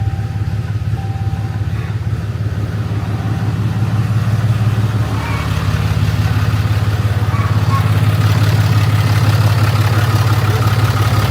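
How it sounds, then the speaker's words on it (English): A 6.7 Cummins diesel truck engine idles loudly and steadily at close range after a cold start, a deep rumbling chug that grows slightly heavier partway through. "Now this motor is a little loud at a cold start."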